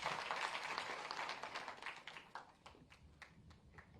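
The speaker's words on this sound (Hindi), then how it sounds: "एक बार जोरदार तालियों के साथ।" Audience clapping at the opening ceremony of a habitat centre in Aligarh, Uttar Pradesh, as a state minister is welcomed; a broad, fairly faint round of applause that thins out into scattered, separate claps toward the end.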